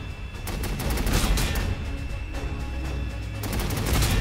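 Rapid gunfire from the strategy video game Warhammer 40,000: Sanctus Reach, a loud, dense volley of shots crackling continuously for a few seconds, with no voices.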